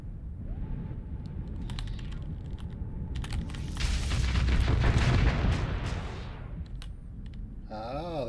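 A torpedo launch in the space combat game Starsector comes amid a busy battle soundscape: a rising rumbling blast swells in the middle, with clicking and tonal interface sounds scattered around and a warbling tone at the end.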